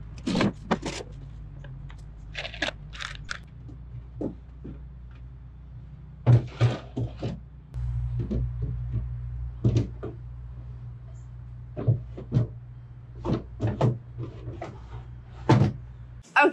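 A wooden dresser's top drawer is worked loose and pulled out with scattered knocks, scrapes and clunks of wood over a steady low hum, with occasional faint speech.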